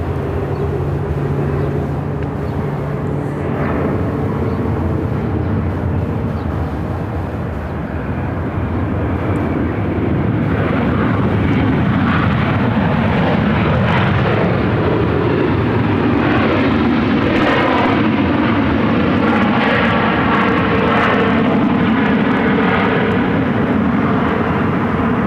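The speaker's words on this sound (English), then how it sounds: "This United Flight 511 coming in from Chicago on a" A United Boeing 737-900 arriving from Chicago lands at Phoenix airport, its engine roar rising and holding loud and continuous, with a whining tone sweeping through the noise as it passes.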